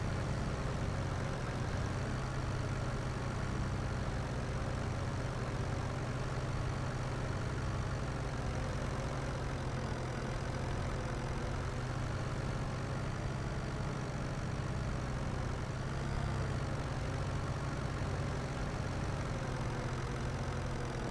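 A 130-horsepower tractor idles in Farming Simulator 25, a steady, even engine drone with a deep low rumble that holds unchanged from start to finish, with no voices over it.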